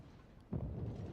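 A single deep, booming salvo of ship gunfire from a naval battle game, the cruiser Helena or Boise, erupts midway and rumbles off, with a quieter lull beforehand.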